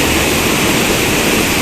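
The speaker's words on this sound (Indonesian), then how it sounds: "Menikmati keindahan air terjun ini" The Uma Anyar waterfall gives off a loud, constant roar of falling water, a dense rushing wash that holds steady without pause.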